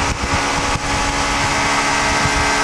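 Motorcycle engine drone while riding on twisty country roads at around 40 mph, a steady close running note with rushing wind, continuous throughout and loud.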